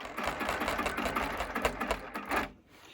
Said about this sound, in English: I'm going to stitch to the edge